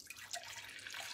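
Water pouring steadily into a Toddy cold brew system, a soft continuous trickle and splash heard close up and fairly faint, with no talking.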